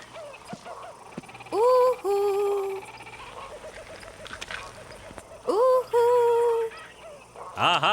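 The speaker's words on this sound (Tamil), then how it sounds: "குயில் கூவிடுச்சுடா தம்பி" Koel cuckoo calling in a comedy film set in Africa, with repeated loud rising whistled notes in two bursts and quieter background sounds between them.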